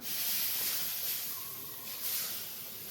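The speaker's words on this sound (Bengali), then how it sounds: "ওপরে ঢাকনাটা গরম হয়ে গেছে, লবণ জল ছিটিয়ে দেবো।" Salt water sprinkled onto a hot lid while butter naan cooks over a wood fire, giving a steady broad hiss that swells and fades over a few seconds, alone with no talk.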